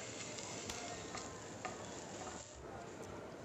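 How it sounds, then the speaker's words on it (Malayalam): Sliced shallots and curry leaves fry in hot oil in a pan for a Kerala chicken dish, giving a soft, steady sizzle with a few faint stirring clicks. The sound is quiet and close, with no talking. "ഇതിലിട്ട് 2 ചുമന്നുള്ളി വട്ടത്തിലരിഞ്ഞതും കൂടെ ചേർത്തിട്ട് നമുക്കിത് വറുത്തെടുക്കാം"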